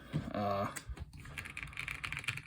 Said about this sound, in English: I guess that is just about everything there is to talk about on the keyboard. Good sound, very marbly